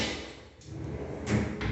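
A drawer beneath a bathroom sink cabinet slides open or shut with a short rumbling scrape and a soft knock at the end, close and fairly quiet, no voices.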